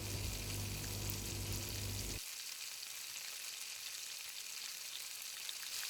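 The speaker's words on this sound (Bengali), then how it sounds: "দিয়ে আমি পেঁয়াজটাকে ব্রাউন হওয়ার আগ পর্যন্ত ভেজে নেব" One cup of chopped onions with salt fries in hot oil, giving a steady, close hiss and sizzle throughout, with a low hum that cuts out partway through while the frying continues evenly.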